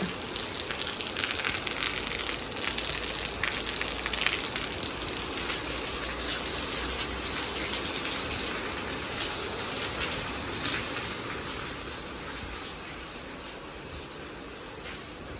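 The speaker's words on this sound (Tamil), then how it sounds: "சாயந்தரம் ஆயிடுச்சுங்க அதான் மழை சூப்பராக கொட்டுது" Heavy evening rain pours down steadily, a dense continuous hiss of drops drumming on surfaces, loud and even throughout with no voices.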